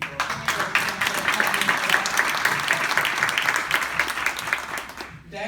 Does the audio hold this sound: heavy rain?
no